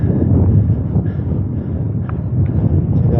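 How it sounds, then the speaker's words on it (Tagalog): Strong wind buffets the microphone during a bike commute, a steady, heavy low roar that persists for the whole stretch, with no voices. "lakas ng hangin"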